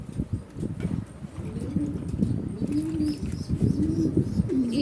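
Domestic pigeons kept as a hobby coo in soft, low, rolling phrases again and again. A few chirps and a brief flutter of wings are mixed in, and there is no talking.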